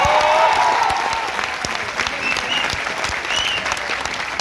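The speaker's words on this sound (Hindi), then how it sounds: "सर के लिए जोरदार तालियां" Loud enthusiastic applause from a large student crowd at a Physics Wallah NEET coaching event, a thick continuous roar of clapping with faint cheering mixed in, steady throughout.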